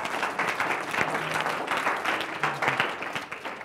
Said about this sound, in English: I think we need to give her a clap for that one.